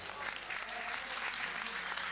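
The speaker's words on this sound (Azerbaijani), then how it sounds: "Bir dənə Mirdaməd qardaşımızı alqışlayaq əvvəl" Applause for the groom Mirdamed at a lively wedding, a dense steady burst of clapping from a crowd filling the whole moment.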